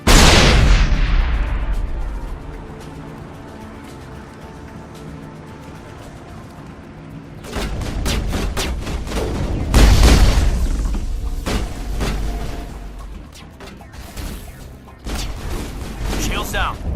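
A heavy explosion opens a video game firefight, a loud boom decaying into rumble, followed later by rapid bursts of gunfire and further blasts, with voices calling out over the combat.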